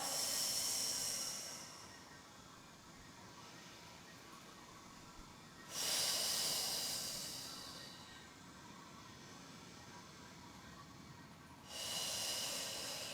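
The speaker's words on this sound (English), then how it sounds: "Breathe into that belly and then exhale." Three long, loud breathy exhales spaced several seconds apart during a pregnancy core workout, each a close airy whoosh fading out, with quieter inhales between and no talk.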